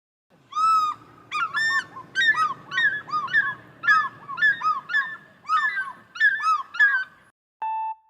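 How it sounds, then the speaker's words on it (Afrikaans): African fish eagle calling in a series of loud, ringing yelping notes, about a dozen clipped cries in quick succession, close and clear against a quiet background. "het julle geraai dis 'n visarend?"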